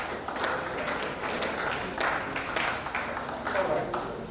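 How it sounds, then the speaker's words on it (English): An audience claps steadily through a conference session of the Nigerian Export Promotion Council in Cross River State, a dense patter of hands with a voice talking over it. "Just keep clapping, keep clapping."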